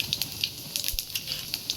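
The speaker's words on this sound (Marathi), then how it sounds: "त्यामध्ये आपण ना थोडंसं जिरे टाकून घेऊया. जिरे चांगले तडतडू द्या." Cumin seeds crackle in hot oil in a kadai, a steady close sizzle broken by sharp, irregular little pops and spits, with no voices.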